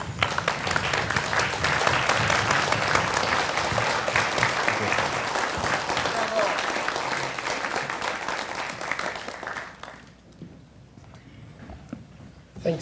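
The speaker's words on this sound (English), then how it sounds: "I would invite you to please stand and maybe give a round of applause to a good friend" Standing audience at an astronomy club's monthly meeting bursts into sustained, dense applause that holds steady for about ten seconds, then tapers off into quiet room murmur with a few scattered claps at the end.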